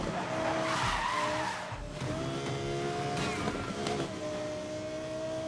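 Tires squeal as a Toyota Supra MK5 skids in Need for Speed Most Wanted, a sustained screeching slide with the game's engine roar beneath, moderately quiet and uninterrupted by talk.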